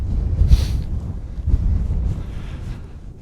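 Wind gusting across Big Dune in Death Valley, blowing steadily and buffeting the microphone with a low rumble and brief hissing surges of sand.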